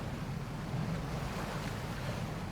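A thruster-driven boat glides across the water surface in LEGO Fortnite, giving a steady rushing wash of water and wind noise throughout, with no voices.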